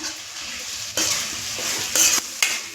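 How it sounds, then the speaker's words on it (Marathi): Spice masala of garam masala, onion-garlic masala and red chilli powder roasting in a pan for shev bhaji, under a loud continuous sizzle with a few stirring scrapes and clinks near the listener. "मसाला चांगला भाजून घेऊया"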